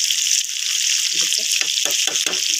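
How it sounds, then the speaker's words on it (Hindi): Spices and green chillies fry in ghee for a danedar chicken qorma. A bright, steady hiss carries through the whole clip, with a faint voice rising under it partway through. "आप देख रहे हैं कि घी हमारा जो है वो इसमें फ्राई हो रही है चीज़ें"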